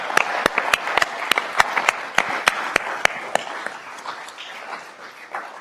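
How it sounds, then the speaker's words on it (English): Applause at a school fireside chat event, starting as a steady run of sharp, loud individual claps in front of a softer crowd patter, then thinning and fading toward the end. "I would like to give a round of applause to our alumni relations staff"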